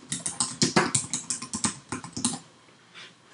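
Typing on a computer keyboard: a quick run of about a dozen close key taps in an irregular rhythm, then a short pause and one last soft tap, with no voices.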